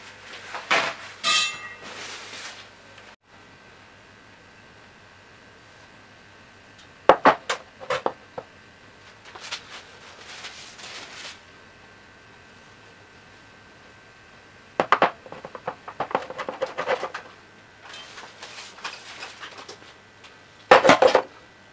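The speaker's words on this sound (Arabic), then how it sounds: "دابا غندوز باش نقطع الطريفات" Knife cutting a homemade cream dessert cake into individual pieces, heard as several separate bursts of clinking and tapping against a tray or dish, spaced out between quiet stretches.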